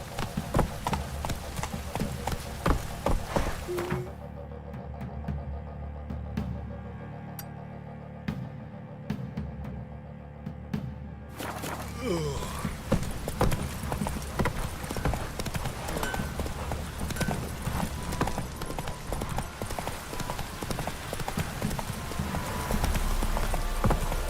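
Hooves of Roach, a horse in The Witcher 3, clip-clop in a fast steady gait on the ground over a game soundscape. The hoofbeats drop away briefly, then return.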